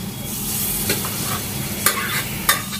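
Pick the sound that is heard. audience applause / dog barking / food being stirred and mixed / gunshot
food being stirred and mixed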